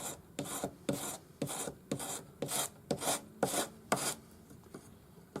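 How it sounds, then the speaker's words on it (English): Sanding stick fitted with 400 grade abrasive paper rubbed along a round wire ring, about a dozen even rasping strokes back and forth in a steady rhythm, close and clear with no talking. "you can use your sanding stick. I'm using 400 grade paper on the stick."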